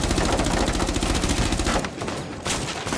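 Rapid bursts of gunfire in Rainbow Six Siege ranked play, dense and loud, with repeated shots in quick succession that briefly pause then resume.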